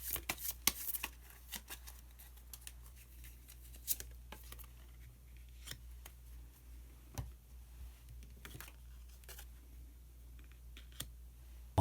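Osho Zen tarot cards being drawn and shuffled by hand, a quiet stream of soft clicks and light card flicks with a few sharper snaps, close and faint with no talking.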